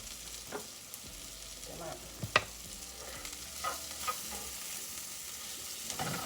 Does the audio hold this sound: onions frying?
yes